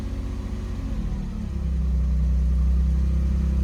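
A Peugeot 604 V6 Ti engine revving up as the throttle is opened, a close, loud low rumble that swells and deepens into a steady heavier drone, with no voices.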